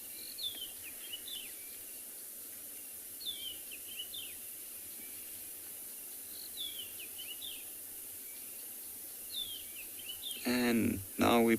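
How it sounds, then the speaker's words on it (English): Wild birds call repeatedly at a distance over a steady bed of insect hum at a sunrise safari, with short chirping phrases recurring every few seconds and a voice briefly speaking at the end. "If you do listen to the birds calling in the background"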